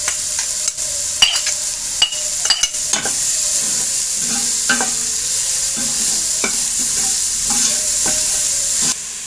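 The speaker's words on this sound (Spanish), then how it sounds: "Lo que estás haciendo ahí que es ablandar un poco las cebollas nomás." Onions sizzle steadily in a pan while a spoon scrapes and stirs them, with sharp clacks of the utensil against the pan over a constant frying hiss, close by.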